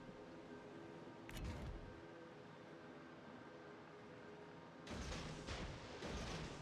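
Explosive blasts from naval combat in World of Warships as an enemy destroyer is blown up, a sharp bang early and then a louder rumbling burst near the end over a low steady hum.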